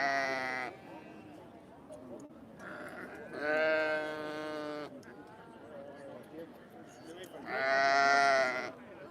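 Valais Blacknose sheep bleat in loud, drawn-out calls at an agricultural show judging ring, three separate bleats spaced a few seconds apart with quieter murmur and faint voices between them.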